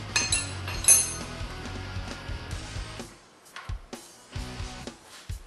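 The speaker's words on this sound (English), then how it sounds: "That's a 22mm wrench, which I've got already prepared here. We're going to go ahead and take that bolt." A 22mm wrench works the front axle nut loose on a Yamaha WR250X motorcycle, giving close, irregular metallic clinks and clanks with short pauses between.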